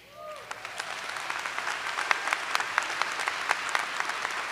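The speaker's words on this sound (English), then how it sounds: "another round of applause for Tracy" Applause from a commencement ceremony crowd at Westfield State, dense clapping building quickly and holding steady, with a brief voice at the very start.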